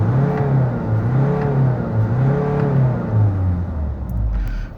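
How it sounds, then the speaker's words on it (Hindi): Diesel Honda City engine revved repeatedly, each rise and fall of rpm swelling into a throaty mid-pitched whir, close and loud with no talking. "इंजन को रेव करके बताता हूँ मैं आपको।"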